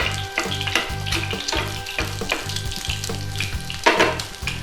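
An egg fries in hot oil for beef pad kra pao, crisping at the base and puffing at the edges. A steady, close crackling sizzle runs throughout with a louder burst of spitting near the end, with no voices.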